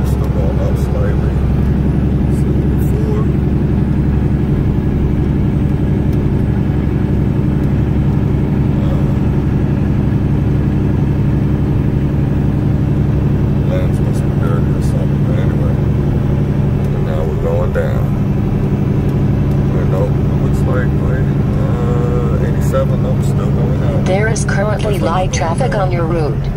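Car climbing uphill on I-81 southbound at Fancy Gap, heard from inside as a constant low engine and road rumble across the whole stretch, with a driver talking over it.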